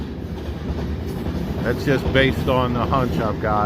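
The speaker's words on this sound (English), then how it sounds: "Illinois Central and Canadian National booking through Columbus, Ohio. Now this train is probably all potash." A Canadian National and Illinois Central freight train, likely loaded with potash, rumbles past in Columbus, Ohio with steady rail noise and clatter, while someone talks over it nearby.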